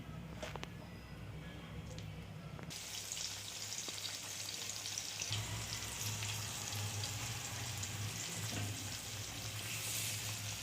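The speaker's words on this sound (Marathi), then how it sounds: "मॅरिनेट केलेला मासा आपण केलेला रवा आणि तांदळाच्या पिठामध्ये असं गोळवून घ्यायचं, सगळीकडून गोळवून घ्यायचं आणि तेलामध्ये फ्राय करायचा" Rava and rice-flour coated surmai fish frying in hot oil, a loud steady sizzle that swells after a few seconds and crackles continuously for the rest of the clip.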